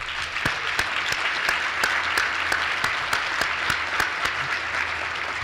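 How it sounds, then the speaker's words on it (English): Steady audience applause for the Greater Des Moines Partnership team, a dense even wash of clapping with a few sharper nearby claps standing out, no talking. "give them a big round of applause, please"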